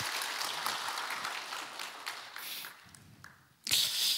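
A church congregation at an Easter dawn service claps together in steady, dense applause that fades briefly, then a sharper burst of clapping swells back up near the end, with no voices on top.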